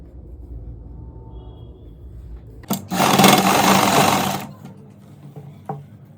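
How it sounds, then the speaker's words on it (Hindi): A sewing machine runs in a steady burst of stitching for under two seconds as a lining pant's bias-cut seam is sewn slowly along a marked line, preceded and followed by quiet handling of fabric. "यहाँ पे इस निशान के अकॉर्डिंग स्लो प्रोसेस से सिलाई करेंगे"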